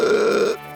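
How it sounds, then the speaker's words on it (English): A loud, drawn-out burp from a child in a kids' football story, one sustained low rumble lasting about half a second before cutting off, heard alone. "before letting out a huge burp"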